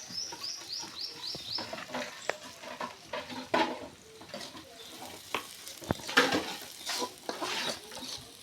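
Taro, potato and eggplant frying in a pan, a soft continuous sizzle broken by repeated scraping stirs, close up, with faint bird chirps in the background.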